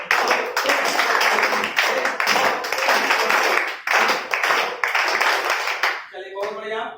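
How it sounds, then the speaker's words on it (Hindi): A classroom of children claps together in a galloping horse-style rhythm, loud and close, with a teacher's voice leading before and after the claps. "चलिए घोड़ा वाला ताली बजाना है हम लोग को"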